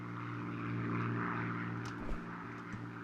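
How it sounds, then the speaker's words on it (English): Propeller airplanes in the farming game Farm Expert 2017 fly over the fields, a steady droning engine hum that swells and fades slightly as they pass, with a few faint clicks. "we should be able to see the airplanes coming in here"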